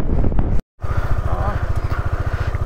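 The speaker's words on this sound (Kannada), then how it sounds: "ನೋಡ ಅಲ್ಲೊಂದು ಬೈಕ್ ಬರ್ತಿದೆ" A motorcycle engine thrums in a steady pulsing rhythm on a mountain road near Umling La pass, loud and close after a brief gap, with a voice briefly audible at the start.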